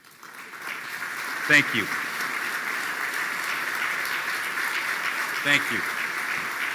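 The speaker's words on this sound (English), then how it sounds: "Can you please stand for a round of applause?" Sustained applause from an audience at the State of the Port of New York and New Jersey event, honoring Port Authority employees who stand; steady broad clapping fills the room while a speaker briefly thanks them over it.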